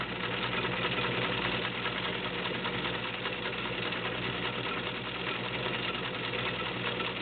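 A heavy-duty White Selectronic model 970 sewing machine running at 1.6 amps stitches a zigzag pattern, a steady close mechanical hum with a rapid, even needle chatter that holds throughout without pause.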